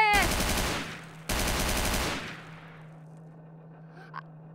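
Rapid video-game machine-gun fire in two long, loud bursts, with a short break between them. The firing then gives way to a steady low hum and a few faint clicks.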